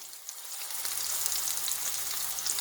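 Dry onion and a little garlic frying in a pan with a close, crackling sizzle that starts softer and then swells into a steady spitting hiss with scattered pops.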